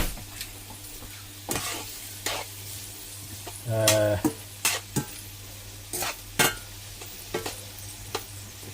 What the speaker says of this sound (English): I've got some tomato paste in there with some onions. I'm going to fry them off together.